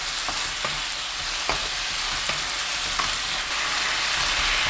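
Potatoes stir-frying in oil in a pan with rice syrup added, a steady close sizzle broken by periodic scraping stirs, with no talking.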